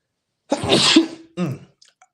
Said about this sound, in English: I feel the sneeze coming up, so hold on.